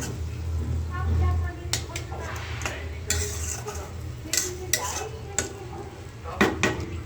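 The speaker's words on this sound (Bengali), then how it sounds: "তো মাছটা দিয়ে একটু কষায় নিই, তারপর ঝোল দিয়ে দেবো।" Folui fish being stirred and fried in a pan, with scraping and clinking of a utensil against the pan over a low sizzle, in repeated short strokes close by.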